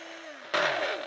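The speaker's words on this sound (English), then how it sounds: "But I just plugged this blender." A blender powered through a Ryobi 40V 300-watt inverter kicks on halfway through, a sudden loud motor whine with a rising pitch following a quieter electrical hum.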